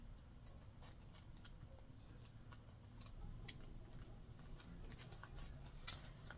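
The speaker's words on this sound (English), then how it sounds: "I take the scissors and I just cut off" Scissors trim the edge of a paper coffee filter pocket for a junk journal, making faint, quiet snips and light ticking cuts scattered irregularly over a hushed background, with no talking.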